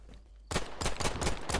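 Rapid bursts of automatic gunfire in the video game Phantom Line, a sudden loud volley of shots after a brief quiet lead-in, with no talk over it.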